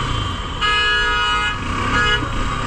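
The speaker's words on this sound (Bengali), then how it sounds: "বাট একবার হর্ন কাজ করলো" A KTM RC200 motorcycle horn sounds in a steady, loud, continuous toot, held for a couple of seconds close to the mic with no talk over it.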